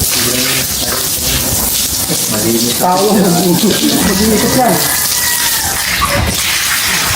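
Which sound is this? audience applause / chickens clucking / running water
running water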